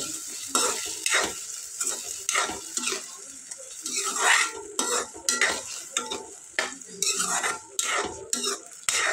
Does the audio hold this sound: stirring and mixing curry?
yes